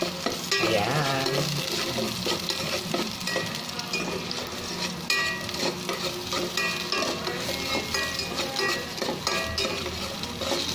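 Garlic and onion frying in a pan while being stirred, busy crackling sizzle with repeated scraping and clattering of the spoon against the pan, close and continuous.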